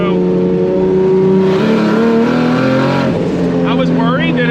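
A turbocharged BMW E30 with a swapped 2JZ engine and dual-clutch gearbox pulls hard under acceleration, its loud, close, steady engine drone rising in pitch with rising whistling tones near the end.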